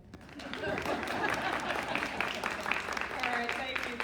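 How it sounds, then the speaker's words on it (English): An audience claps for Dr. Williams, superintendent of the New Orleans Public School District, as she is introduced at a library speaker event. The clapping is steady and fairly full, mixed with crowd murmur and some voices underneath. "Y'all can clap."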